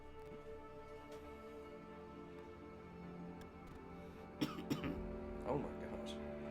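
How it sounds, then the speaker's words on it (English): A streamer coughs a few times in quick succession, close to the microphone, over steady quiet game sound and background hum after a stretch without speech. "Dang it, I was cough free."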